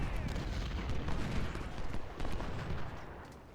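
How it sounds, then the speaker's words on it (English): Artillery in the video game Ultimate General: Civil War, at the First Battle of Bull Run, booms in a dense, continuous barrage of overlapping blasts and rumbles, fairly loud and without pause, with no one speaking. "I guess they are firing their artillery."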